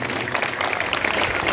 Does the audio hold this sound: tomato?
no